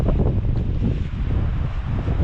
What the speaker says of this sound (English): The wind's picked up a bit here